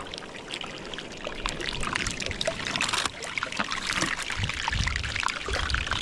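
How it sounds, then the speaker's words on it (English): Melting iceberg in cold ocean water gives off a steady, dense fizzing and crackling, like frying fat, with sharp pops scattered throughout and low water sloshing toward the end. "this iceberg's making crazy noises. It sounds like it's being deep fried"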